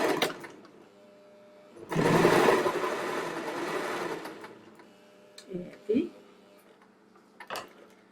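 Sewing machine running in one sustained burst while stitching the centre back seam of a waistcoat, fairly close and steady, followed by a few faint handling clicks.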